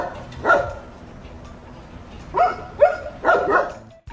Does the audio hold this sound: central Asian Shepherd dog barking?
yes